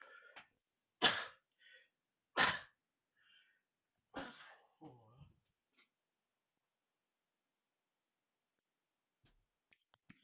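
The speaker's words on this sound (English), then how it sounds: "I'm going to probably sneeze" A few sharp, explosive bursts close by, like sneezes, followed by shorter breathy sounds, then near silence with faint clicks at the end.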